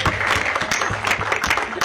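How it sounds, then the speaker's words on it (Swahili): An audience at a public event in Gatundu North gives a brief round of applause, loud and close, with sharp overlapping claps. "Mpigieni makofi."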